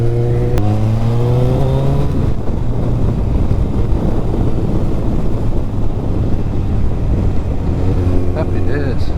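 Kawasaki ZZR 1400 ZX14R motorcycle revving then accelerating hard at Devils Bridge, a loud onboard engine roar buried in heavy wind rush, with the pitch climbing at the start and again near the end.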